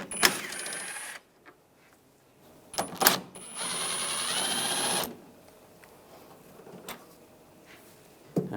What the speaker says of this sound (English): Using a 10mm socket, take these two bolts out.